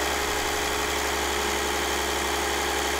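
A 2009 Mercedes E320 Bluetec diesel engine with boost problems idles with a steady low rumble and constant hum, unchanging and close, with no voices.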